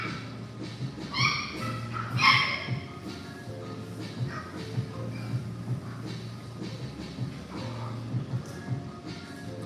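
Litter of small Morkie puppies just under three months old, yipping and whimpering in short, irregular bursts over a steady low background hum, with no talking.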